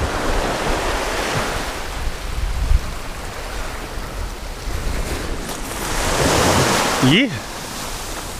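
Wind gusting over surf on a Hawaiian shoreline while surf fishing, a steady broadband rush of waves and wind buffeting the microphone that swells toward the end, with a brief spoken word.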